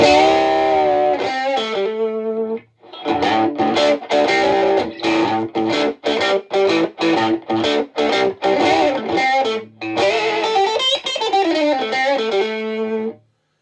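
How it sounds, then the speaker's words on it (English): A Telecaster played through a 1974 Fender Silverface Champ with a Tube Screamer gives a crunchy, overdriven tone. Sustained chords open and close a steady run of choppy, rhythmic strummed stabs, loud and alone. "I love the sound of the tube screamer with this champ"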